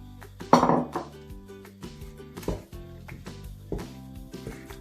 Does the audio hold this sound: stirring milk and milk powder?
yes